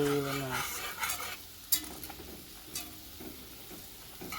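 Butter, garlic and onion sizzle steadily in a pot as they are stirred, the start of a roux for Jamaican homemade shrimp pasta, with soft scraping strokes over a constant close frying hiss.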